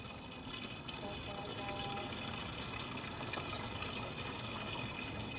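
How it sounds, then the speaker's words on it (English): Washer fluid glugs and splashes steadily as it is poured into a car's reservoir, a faint continuous liquid rush with no talk over it. "let's pour this in and see how steady our hand is"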